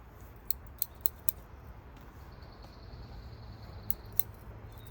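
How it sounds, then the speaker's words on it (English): Gritty scissors snip in a few sharp, gritty clicks while repotting a cottonwood, irregularly spaced, over a steady hiss of background noise. "My scissors are gritty."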